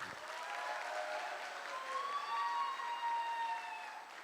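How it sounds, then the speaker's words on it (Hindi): Steady applause from an audience honouring their gurus at a speech event, sustained and fairly even, with a faint tonal whine drifting through the middle. "मैं चाहूँगा सबसे ज़्यादा और सबसे ज़बरदस्त तालियां हमारे गुरुओं के लिए होनी"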